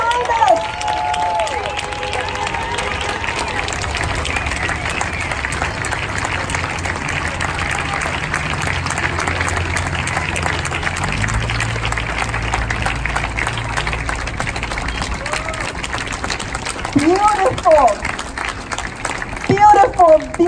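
A crowd at a vigil applauds and cheers for children in a steady, continuous wash of clapping and voices that grows slightly louder toward the end.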